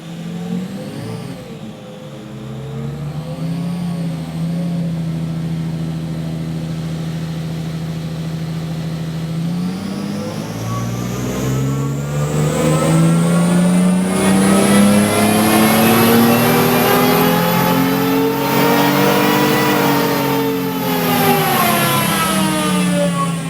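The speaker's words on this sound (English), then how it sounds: "So let's get our engine running" A car engine on a tuning run climbs steadily from a low drone to a loud, high-pitched roar under wide-open throttle, sustained for many seconds without speech.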